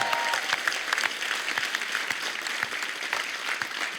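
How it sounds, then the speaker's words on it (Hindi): Studio audience at a comedy talk show clapping loudly and steadily, a dense unbroken wash of applause from a large crowd that carries evenly through the whole stretch. "जोरदार तालियां बनती हैं"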